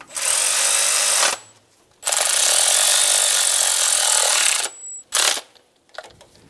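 A power tool runs down the 10 mm bolts on the timing cover of a 2000-2006 Toyota Tundra 4.7L V8. It gives loud, close, whirring bursts, one long and one short, with brief pauses between them.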